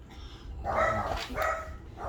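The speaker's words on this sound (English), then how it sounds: "Which they are barking, but I don't see anything." Dogs bark outdoors at a moderate distance, a few separate barks and yips in two short bursts over quiet background.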